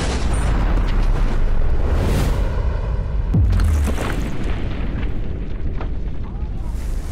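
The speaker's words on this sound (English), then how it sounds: "This is a real explosion." Loud, sustained roaring blast noise fills the scene as a real explosion blows up a safe, with a deep rumbling boom partway through. Harsh broadband noise continues throughout.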